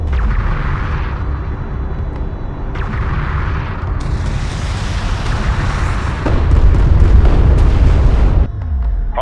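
A hostile craft blown up in the real-time strategy game Homeworld: Deserts of Kharak: loud rumbling explosions and booms that swell into a bright crackling burst, layered over continuous battle din, with no talk.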